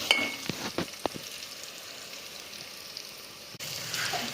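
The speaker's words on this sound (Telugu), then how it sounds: "ఉల్లిపాయ అయితే వేగింది." Onions frying in a pan for a healthy moong dal dish give a steady, close sizzle with a few sharp crackles and pops near the start.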